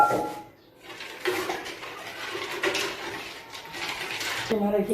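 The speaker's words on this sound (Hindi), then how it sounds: "ये इसमें बर्फ़ डाल दूँ मैं" Ice is added to chilled golgappa water, producing splashes and sloshing liquid with light clinks of ice against a container, close and moderately loud throughout.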